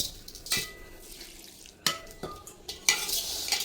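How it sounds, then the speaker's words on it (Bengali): Flattened rice (chira) is stirred and fried with salt and a little water, with a spatula scraping sharply across a pan several times over a soft, steady sizzle. "এক চুলায় চিরা ভাজা হচ্ছে"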